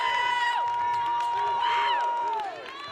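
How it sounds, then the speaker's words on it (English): Indoor basketball crowd at a college game rising in a cheer after a layup, with shouts and whistling tones over steady arena noise, fading near the end. "That one gets a huge rise from the crowd."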